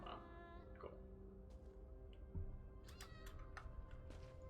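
A cat meowing in the video game Elder Scrolls Online, faint and short, a couple of soft calls over a quiet, steady game ambience.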